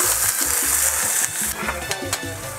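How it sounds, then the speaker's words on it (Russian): Salmon fries in a hot pan with a steady, loud sizzle and crackle close by, broken by a few scraping clicks of a utensil against the pan. "Жарьте на каждой стороне в среднем по 2 минутки"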